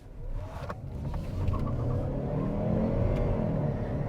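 A 2011 Kia Optima Hybrid accelerates under power, heard from inside as a steady low engine rumble that swells gradually, with faint whirring and a few light clicks in the cabin.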